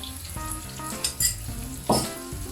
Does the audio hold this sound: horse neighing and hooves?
no